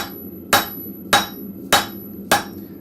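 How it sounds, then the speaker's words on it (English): Four evenly spaced, sharp hammer blows on hot metal at a blacksmith's forge as a piece is drawn thin, ringing clearly against a quiet shop background. "I'm not worried about how my hammer blows are spot on or not"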